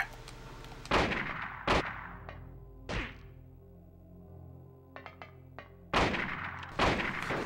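Gunshots in the Silent Hill video game, heavy booming blasts fired one at a time with pauses between them, plus a quick burst of smaller cracks, loud over a quiet low background hum.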